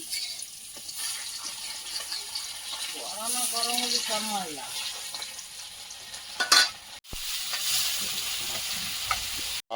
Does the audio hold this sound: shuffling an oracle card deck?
no